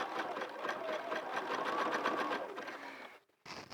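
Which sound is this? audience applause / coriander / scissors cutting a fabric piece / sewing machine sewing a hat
sewing machine sewing a hat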